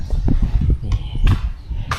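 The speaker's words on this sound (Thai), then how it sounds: "เป็นม้า เป็นรถม้านะครับ" A horse-drawn carriage at an old temple, hooves clip-clopping in an uneven rhythm of close, loud thuds, with a couple of sharper clatters.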